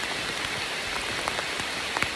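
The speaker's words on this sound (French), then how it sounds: "Il pleut." Steady rain pattering on a surface, a dense continuous hiss with scattered louder drops, close and even throughout with no talking.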